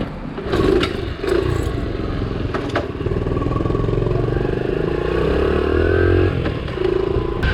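A Honda Trail CT70 small motorcycle engine runs steadily up close for several seconds, with a few brief clatters and rises in revs over the continuous motor drone.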